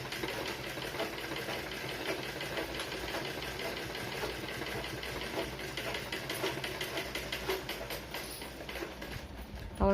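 Sewing machine stitching a blouse lining, a steady fast mechanical whirr with dense rapid ticking, running continuously and fairly quiet without any voices.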